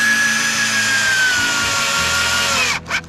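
A power drill drives screws into wood while building a rabbit cage. Its loud, continuous motor whine runs for nearly three seconds, then cuts off with a brief final burst.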